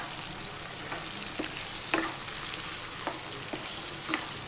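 Chicken with ginger garlic paste frying in a pan, a steady sizzle with a few soft scraping stir strokes, close and continuous without talking.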